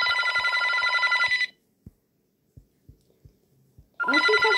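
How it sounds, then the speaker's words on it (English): A telephone rings in a loud, dense trill that stops abruptly, followed by a pause with faint soft thumps, then the ringing starts again just as loudly near the end. "Oh, the phone's ringing."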